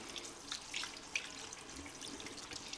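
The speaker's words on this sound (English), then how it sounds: "I'm gonna kind of give that a good rinse" A makeup brush is rinsed under a running tap in a sink. The water splashes in a soft, steady stream with faint gurgles and shifting spatter, and no one speaks.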